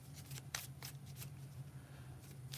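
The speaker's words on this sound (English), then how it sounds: "3 more shuffles" Oracle cards are shuffled by hand, quiet close riffles and soft snaps in several short bursts against near silence.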